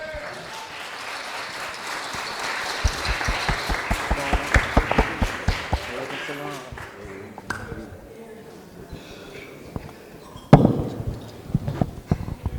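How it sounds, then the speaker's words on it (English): An audience at a Kwanzaa event applauds as an activist is welcomed to the stage, sharp claps building and thinning out, with people talking over and after the applause. "please bring to the stage with a warm round of applause"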